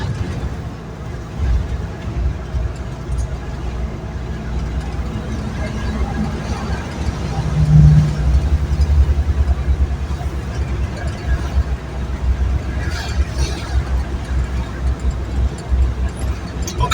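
Car driving through Lilongwe traffic toward a roundabout near the parliament: a continuous low road and engine rumble inside the vehicle, with someone talking over it throughout.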